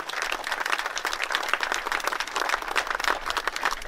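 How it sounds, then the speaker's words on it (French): Applause from an audience honoring regional elected officials, a steady patter of many hands clapping at moderate volume, continuous and even for several seconds. "je vous demande d'applaudir encore"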